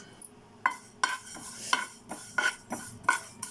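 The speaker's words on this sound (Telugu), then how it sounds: "నువ్వులు దోరగా ఫ్రై చేసుకోవాలండి" Two teaspoons of sesame seeds roast in a pan for ivy gourd chutney, a faint hiss broken by about six rhythmic scraping clinks of a spoon stirring against the pan, close and alone.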